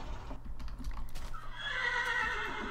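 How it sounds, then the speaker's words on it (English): Horses in the video game Minecraft neigh, starting with faint clip-clop steps and ending in one clear, drawn-out whinny that rises over low background hum. "Oh no, the horses are glitched out again."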